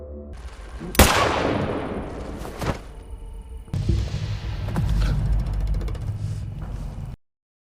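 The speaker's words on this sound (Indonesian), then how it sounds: "Si pemimpin milisi kemudian menembak kantong itu" Gunshots fired at a body bag by a militia leader in a film: one sharp, loud crack, followed by more bursts and a dense, rumbling barrage that runs on for several seconds.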